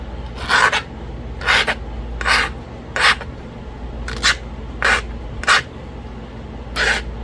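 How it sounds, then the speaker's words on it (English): A blade is drawn across a novaculite stone slab in eight separate rasping strokes, each about half a second long, at an irregular steady pace. The strokes sound close and clear over a low background hum, with no voices. "we're going to sharpen this up."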